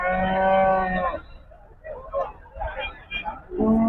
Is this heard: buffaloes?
yes